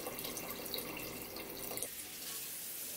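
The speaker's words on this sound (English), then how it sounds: "we're going to fill her up with that high quality H2O" Water pours into a cooking pot for a Vietnamese beef stew with seared beef shank, a steady close rush that drops in level partway through as the pot fills, with no speech.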